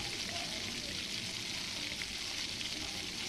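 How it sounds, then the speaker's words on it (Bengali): Boiled soybean chunks with spices are stirred and fried in a pan, a soft continuous sizzle with faint turning noises, quiet and even throughout. "এখন ভালো করে উল্টি পাল্টি নেড়ে নিচ্ছে"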